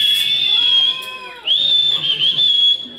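At a live band performance, the crowd lets out loud, sustained high whistles. The whistles are briefly interrupted midway, then resume and carry on to the end.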